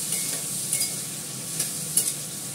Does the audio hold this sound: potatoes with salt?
yes